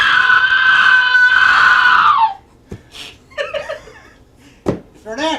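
A recorded scream from a haunted house audio playback product, one long loud sustained shriek lasting about two seconds, then cut off and followed by brief scattered voices and chatter.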